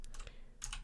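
A handful of quick, faint keystrokes on a computer keyboard, close by, tapping out a short word in a brief irregular cluster.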